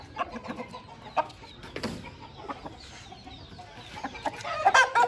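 Rooftop roosters cluck in short, irregular bursts, some close and loud, with a louder cluster of calls at the end and no speech.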